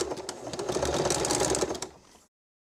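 A sewing machine stitches jute rope, its needle chattering in a fast, steady run for about two seconds before stopping abruptly, close and fairly loud.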